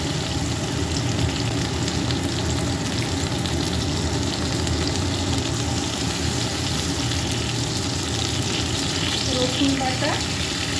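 Chopped onion and bay leaf frying in oil for a coconut mutton curry, a loud, even, unbroken sizzle and crackle close by for about eleven seconds, with a few light utensil sounds near the end.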